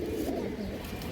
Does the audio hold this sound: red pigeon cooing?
yes